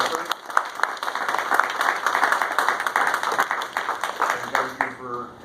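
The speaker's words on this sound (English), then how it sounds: "I'd like everybody to give the candidates a round of applause for their time and effort." A school board interview meeting audience applauds the candidates with steady, moderately loud clapping that lasts several seconds and then tapers off.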